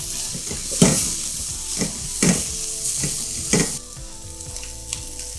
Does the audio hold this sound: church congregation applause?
no